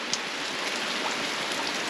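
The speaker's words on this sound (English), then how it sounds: "It's raining." Steady rain patters on a camper awning at a campsite near Blencoe Falls in Queensland, a dense, even hiss of drops with no one speaking.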